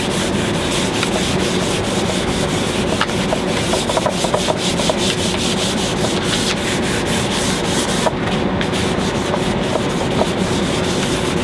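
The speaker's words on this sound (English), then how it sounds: "All we do is are going to sand this now" Loud, continuous rubbing of sandpaper on a wooden cabinet door, a steady rasping rhythm of strokes close up with no talking.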